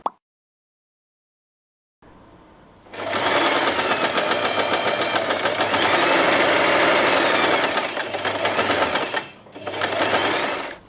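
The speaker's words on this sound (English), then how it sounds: "fold the fabric with the right sides together and sew this part" Sewing machine stitching satin fabric for a bow, a fast, even mechanical whir that starts after a silence, runs in two long bursts with a brief pause between, close and loud.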